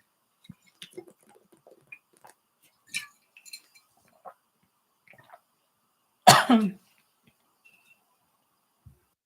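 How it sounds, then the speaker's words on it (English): A single loud cough stands out in near silence, preceded by a few faint clicks and small handling noises. "I muted myself so I could cough."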